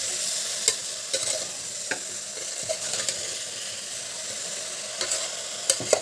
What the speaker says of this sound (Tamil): இப்போ இதையும் நல்லா மிக்ஸ் பண்ணிக்கலாம்